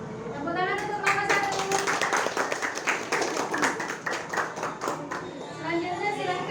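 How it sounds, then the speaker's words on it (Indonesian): Classroom audience of university teacher-training students clapping for a student group after its presentation, a lively burst of brisk, uneven hand claps with some chatter and children's voices mixed in. "Tepuk tangan untuk kelompok"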